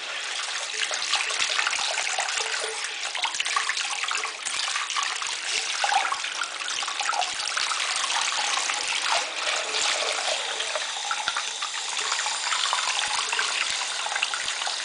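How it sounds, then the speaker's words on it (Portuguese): Hot water runs steadily from a tap before makeup brushes are washed, a constant close hiss and trickle lasting throughout without pause. "a primeira coisa que eu faço é ligar a água no quente"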